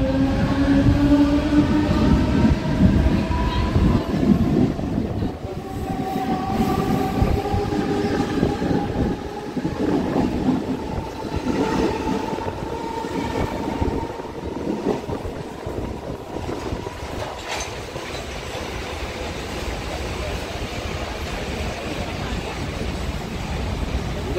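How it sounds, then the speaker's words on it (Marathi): A fast local train rushes through a Mumbai suburban station at speed, a loud steady rumble and rattle of wheels with a rising then fading whine, heard up close from the platform. "एक जलद गाडी जाणार आहे."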